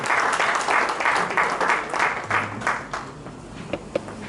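Audience clapping at an investiture ceremony for a branch chairman and executive committee, a full, roomy burst of applause that swells and then thins out into scattered claps near the end.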